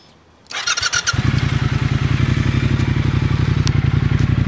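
A Triumph Thruxton motorcycle engine cranks and fires up after a short quiet moment, then settles into a loud, steady, throaty idle burble with rhythmic pulsing exhaust beats close to the microphone.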